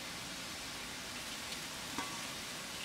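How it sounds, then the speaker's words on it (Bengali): Fried pumpkin lentil dumplings, kumro bori, go into a simmering curry broth that gives off a steady, soft sizzling hiss, with a couple of faint splashes as pieces drop in. "একে একে কুমোর বড়ি আমি দিয়ে দিচ্ছি"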